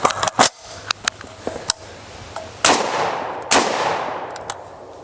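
Shotgun fire at an outdoor shooting range, several sharp loud blasts, some close and some farther off, irregularly spaced with brief ringing decays and quiet gaps between.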